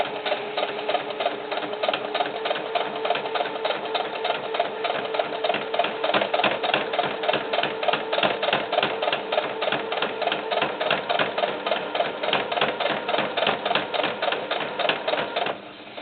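Sewing machine stitching a seam on a small doll cowboy hat, a continuous close rapid rhythmic chatter of the needle lasting the whole stretch and stopping at the end.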